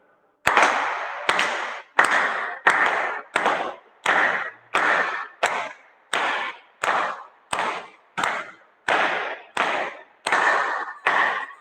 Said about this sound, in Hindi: एक बार अपन पुनः ताली बजा लेते हैं